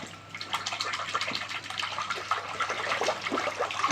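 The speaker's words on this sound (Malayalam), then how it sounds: "വെള്ളം തെറിപ്പിച്ച് കളിക്കാം നമുക്ക് വാ" Water sloshes and splashes continuously in an inflatable pool in short irregular bursts, close by, with no voices.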